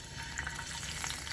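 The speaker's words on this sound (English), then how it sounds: "put one in there, and then we'll go ahead and see if it starts to sizzle" A seasoned scallop is laid seasoned side down in a hot pan and sizzles with a steady, soft, crackling hiss that holds quietly and evenly, with no voice over it.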